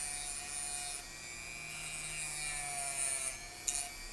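A mini rotary tool grinds down the tip of a small cell phone repair component, a steady high-pitched whine with a gritty grinding texture that changes as the tool presses and lifts off, close and continuous.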